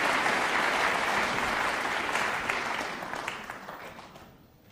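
Sustained applause from a snooker crowd at the 2008 Welsh Open final between Ronnie O'Sullivan and Mark Selby, loud and steady at first, then slowly thinning and fading toward the end.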